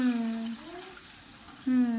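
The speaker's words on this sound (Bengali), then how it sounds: "এখন আমি জল দিয়ে দিচ্ছি" Water poured into a pot of braised, browned meat during home cooking, a steady splashing pour that breaks off midway and resumes near the end.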